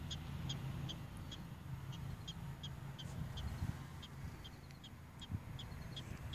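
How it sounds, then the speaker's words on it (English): Prairie dogs chirp outdoors near their sandy mounds just outside city limits, a rapid series of faint, high, evenly spaced calls repeating over a low background rumble of wind and distant traffic. "Prairie dogs are coming out now. Hear them chirping."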